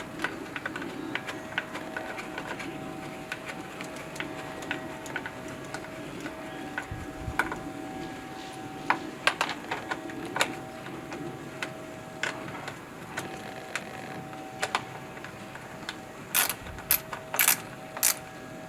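Small screws are driven back into a Honda 2.3 hp outboard carburetor, giving faint, irregular metallic ticks and clicks, with a few louder taps near the end.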